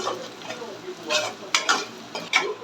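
Green chillies and onions fry in oil in a pan, giving a soft steady sizzle with a few sharp scrapes and stirring clinks close by.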